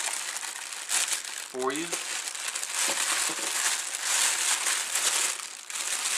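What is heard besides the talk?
bag crinkling as headphones are unpacked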